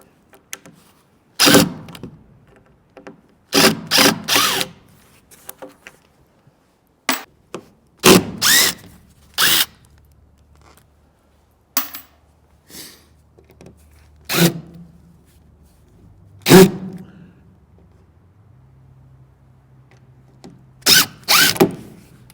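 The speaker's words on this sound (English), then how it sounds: "I guess you go get a drill and you drill them out." Drill bursts working out stripped screws from boards in a horse nursery build, short whirring runs repeated with gaps, fairly close and loud with no talk.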